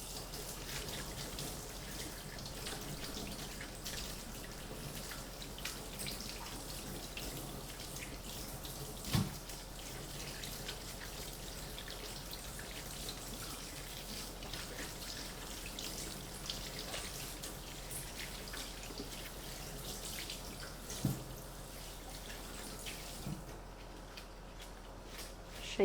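Running tap water splashes steadily over a halved leek as soil is rinsed out, a constant soft hiss with a few small clinks, no voices.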